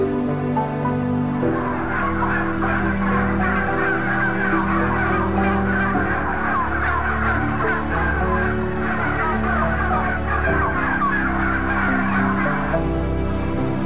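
Dense, continuous clamor of thousands of farmed chickens packed inside a single building, a loud overlapping wash of clucks and squawks with no pauses.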